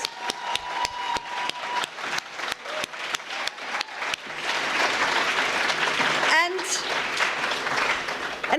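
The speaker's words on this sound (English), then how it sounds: "Let's give them another round of applause." Storytelling event audience gives the storytellers another round of applause: a few sparse, distinct claps grow into steady, full clapping from a room-sized crowd that continues to the end.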